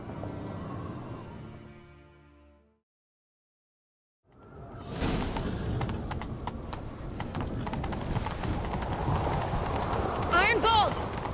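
Galloping horse hooves in The Witcher 3 video game, a steady loud clip-clop run that starts after a brief silence, joined by whooshing movement, a short whinny and voices talking over the chase.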